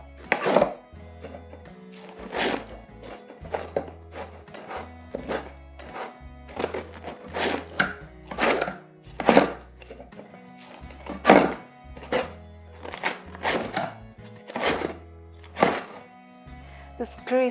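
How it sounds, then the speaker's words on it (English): Sourdough focaccia being sliced with a knife: a steady run of crisp crunching cuts and dull thunks against a board, close and fairly loud, about a dozen strokes in an uneven rhythm. "then just cut your focaccia and enjoy its taste"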